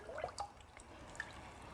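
Honey draining slowly from an upside-down container during mead making, heard as a few faint, soft irregular drips over a quiet background.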